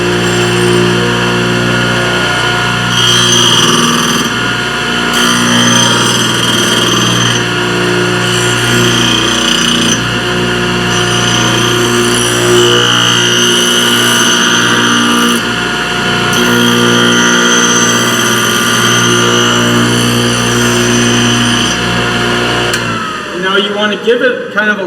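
A Thorvie AV-40 saw and tool sharpening machine lightly grinds a jointer planer knife, with a loud, steady motor hum and continuous grinding whine held for the whole stretch before cutting off abruptly at the end.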